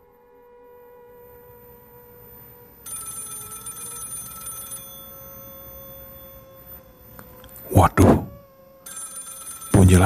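A telephone bell rings in a quiet room at night, first in a long steady burst and again near the end, under a narrator's voice and a brief loud rustle.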